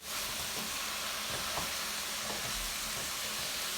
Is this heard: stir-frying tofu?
yes